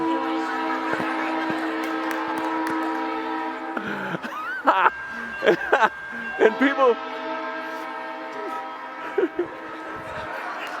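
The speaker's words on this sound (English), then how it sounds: "This is where you play that whistle again." A long, steady train whistle sounds with layered harmonic tones for most of the stretch, while people talk briefly over it in the middle.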